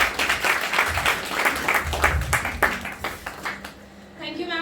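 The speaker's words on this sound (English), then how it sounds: "Kindly welcome him with a big round of applause." An audience at a Science Day lecture gives a round of applause to welcome a guest speaker, close, uneven clapping that thins out near the end as a voice begins.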